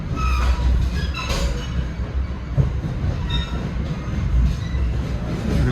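An NJ Transit train rolling over the rails near Trenton as it switches tracks, with a loud steady rumble heard from on board, some wheel squeal and occasional clicks from the track joints.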